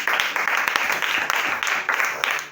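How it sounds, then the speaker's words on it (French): Children and adults at a Cameroonian Sunday school worship service applaud, with brisk, rhythmic clapping in steady waves through the short stretch. "Applaudissez pour cela."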